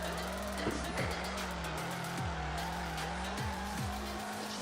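A drifting car in the FR Legends video game squeals its tires in several short sliding bursts over a constant engine drone, fairly faint, with a voice murmuring low underneath.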